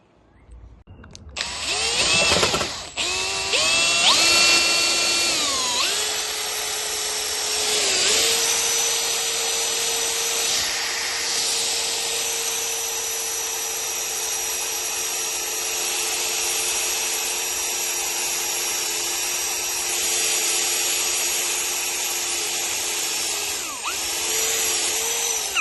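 A hand drill spinning a wire wheel attachment while working on a Mini Cooper S R53/R52, starting up with a few short revs then settling into a long, steady, loud whine with a harsh scraping rub, no talk.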